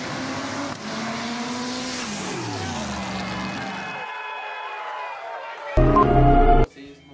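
A Volkswagen Gol 4x4 drag racing car drives past with a steady engine drone that bends down in pitch as it goes by, then falls quiet before a short loud burst near the end.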